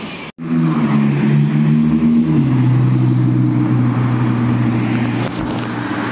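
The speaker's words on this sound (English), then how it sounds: "What a lovely car." A vehicle's engine drones steadily and close on a road in the Kingston area, its pitch dropping partway through as wind noise rushes over it, with no talking.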